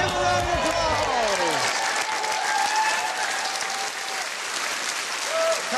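A dating-show studio audience breaks into a strong round of applause that carries the whole stretch, while music and a host's voice fade out at the start.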